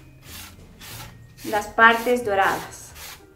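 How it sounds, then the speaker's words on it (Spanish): Sandpaper is rubbed by hand over red-painted wood to distress and strip the paint, a soft scratchy rasping that swells in the second half beneath a person speaking. "Y con la lija vamos a decapar para poder sacar la pintura roja un poquito"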